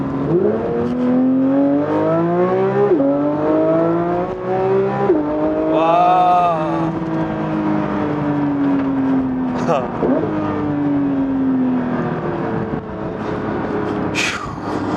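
Porsche 992 GT3 with roughly 500 horsepower, driven hard in sport mode with manual gear selection: the engine revs rise and fall in loud sweeps, with sharp gear shifts between them and a voice talking over it.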